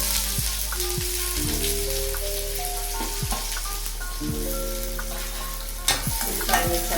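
Urad dal, mustard seeds, cumin and onions frying in oil for a tempering, a steady close sizzle with scraping stirs and a few clinks of a spoon against the pan, no speech.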